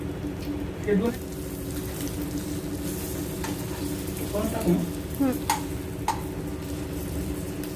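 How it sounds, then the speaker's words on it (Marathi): Eggs sizzle and fry in oil with a dry masala while being stirred, a steady close crackle with occasional scrapes and knocks of the spoon against the pan. "आता आपल्याला हे अंडे छान असे दोन्ही साईडने तेलामध्ये आणि आपला ह्या मसाल्यामध्ये परतून घ्यायचं आहे"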